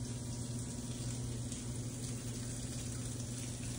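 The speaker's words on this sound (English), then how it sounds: "there's a waterfall right here at the front door." An indoor decorative waterfall at a home's front door runs as a steady, continuous splash and trickle of falling water, close by and even throughout with no talking.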